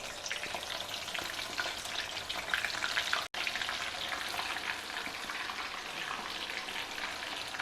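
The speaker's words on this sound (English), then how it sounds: "Fry them well in the hot oil till they get a lovely golden brown color and a crispy outer covering." Cut green chillies crackle and hiss as they refry in hot oil, a dense continuous sizzle close by with no voices.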